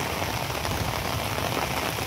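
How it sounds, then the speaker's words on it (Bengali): Heavy rain pours down in a storm, a dense, even roar of drops striking surfaces with no pauses. It continues unbroken throughout. "বৃষ্টি রে বৃষ্টি"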